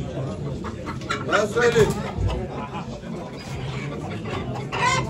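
Hens cluck and squawk a few times amid a crowded chicken auction in Ankara, with several people talking loudly over the birds throughout.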